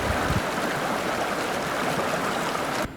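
A river in central Himachal Pradesh near Sissu flows steadily, a loud continuous broadband rush of water that holds even throughout and cuts off abruptly at the end.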